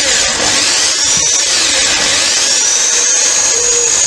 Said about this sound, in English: I've now got to drill out the holes using my trusty hand drill